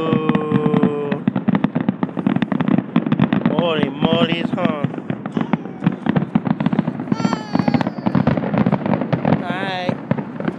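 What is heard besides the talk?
fireworks exploding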